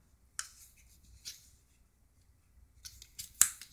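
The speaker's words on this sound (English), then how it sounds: "the top of the paper was folded down" A sheet of paper is folded by hand, giving a few short crisp crackles and swishes separated by quiet gaps, close and fairly soft.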